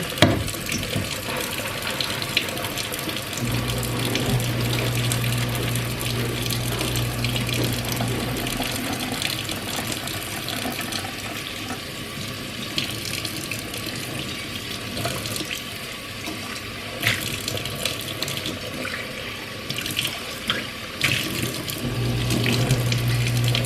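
A kitchen tap runs steadily into a sink while silverware is scrubbed with dish soap, producing a continuous splashing rush with occasional clinks and a faint low hum.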